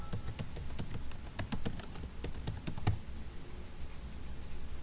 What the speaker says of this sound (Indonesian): Kita bisa langsung mengetik kata pengantar buku.